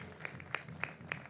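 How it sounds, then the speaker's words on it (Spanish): A few widely spaced claps from an audience, four sharp strikes at a slow steady rhythm, faint and somewhat distant over a low murmur of room noise. "Creo que es un aplauso muy merecido, compañeros y compañeras."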